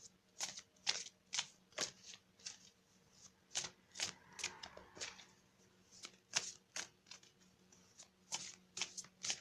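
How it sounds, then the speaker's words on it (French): Tarot cards are shuffled and drawn close up in quick, crisp riffling bursts, a soft papery flutter repeating in an uneven rhythm against a quiet background, no voices. "on va tirer une carte d'énergie de guérison"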